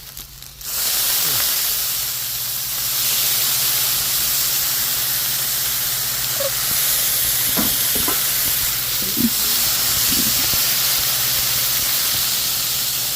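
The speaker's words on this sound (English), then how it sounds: "That's how you steam noodles." A sudden loud burst of steam hisses as water hits udon noodles in a hot pan, then holds steady, with a few faint clicks and pops from the pan underneath.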